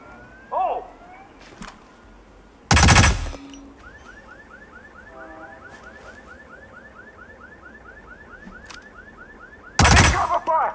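Gunfire in the Hitman video game, heard as two loud, sharp bursts early and near the end, with a rising alarm-like tone repeating between them and brief shouts.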